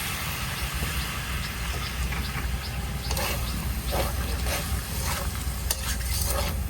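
Spice masala with a splash of water is stirred in a pan for jackfruit and prawn curry, a loud continuous sizzle with irregular scraping strokes of the spoon, close up and without talk.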